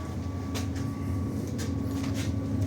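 A Swiss tram from Bern, riding through Lviv, gives a steady low rumble from inside the car, with a faint whine and occasional light clacks and rattles.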